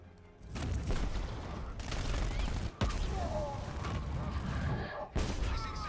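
Sustained automated gunfire from a sentry gun in Batman Arkham Knight, loud and continuous for several seconds with brief gaps, mixed with mechanical clatter and game effects, with no voices.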